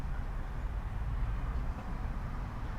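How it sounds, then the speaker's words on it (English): A train passes behind people standing outdoors, a steady low rumble of rolling rail cars at middle distance, continuous and fairly quiet. "We have trains coming behind us."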